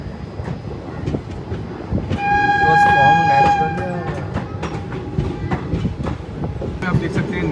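A narrow gauge train rake at Dholpur station, with rumbling rail noise and wheel clatter, a horn-like tonal blast sounding for about two seconds near the middle, while people talk throughout.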